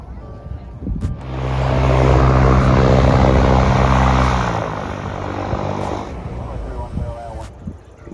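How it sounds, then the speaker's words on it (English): A propeller airplane's engine roars nearby on the runway at the Leesburg fly-in in Florida, swelling loud and steady, then fading as it moves off, with people talking and outdoor clicks around it. "It feels kind of weird being right out here on the runway and having planes like"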